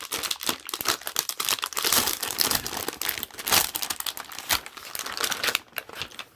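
Plastic packaging for a Blosomeet rugged shockproof case for a Samsung Galaxy Tab S7 crinkles and tears as it is opened, a close, busy run of crackling crumples and rips lasting several seconds with no talking.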